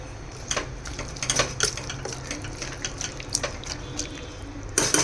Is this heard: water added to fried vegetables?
yes